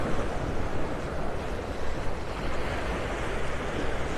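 Steady wind and surf on Vanderbilt Beach in North Naples, Florida, with a northeast breeze blowing. A continuous broadband rush of waves and gusts fills the scene without pause.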